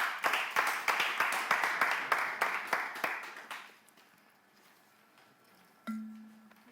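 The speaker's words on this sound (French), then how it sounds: "nous allons accueillir avec des applaudissements Plume Caméléon." Audience clapping at a slam poetry event, a loud burst of applause for several seconds that fades out, followed by quiet and a short hum.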